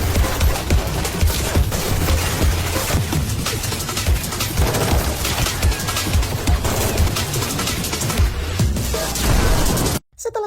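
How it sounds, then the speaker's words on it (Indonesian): Dense, continuous bursts of rapid assault rifle gunfire crackle loudly and close for about ten seconds, overlapping shots with no pause, cutting off abruptly at the end. "mereka bertiga mulai menghujani tembakan ke segala penjuru"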